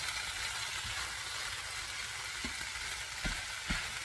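Ham hash and hashbrowns frying in oil give a steady, dense sizzle that crackles evenly throughout, with a few soft low knocks of stirring toward the end and no talking.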